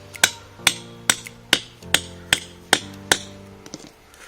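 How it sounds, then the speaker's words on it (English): A hammer strikes metal about ten times in a steady rhythm, each blow sharp and ringing briefly, close and loud. "Now I'll just bring my hammer and possibly hit it a little better."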